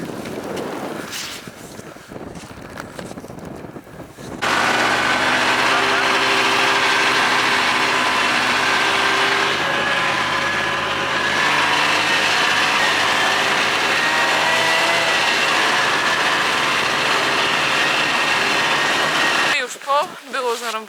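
A snowmobile engine running with a steady, loud, high-pitched drone that starts suddenly and holds for about fifteen seconds, with people talking over it before and after.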